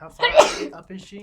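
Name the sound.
sneeze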